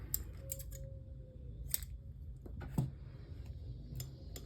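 A few soft, quick snips of scissors cutting, quiet and close, with faint clicks between them in an otherwise still room.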